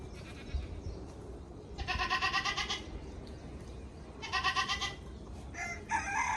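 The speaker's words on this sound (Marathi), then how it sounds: "माझी कशी वरडायला लागलेत त्यांच्या शेळ्या बघून." Goats bleating loudly in repeated bursts close by at a rural farm in rainy weather, with bright nasal calls and a rooster-like cry mixed in over steady background noise.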